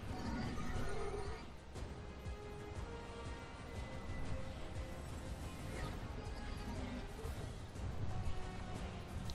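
A horse neighs and whinnies in the Warframe video game, a faint call set in dense, steady game noise with a muffled thud of hooves underneath.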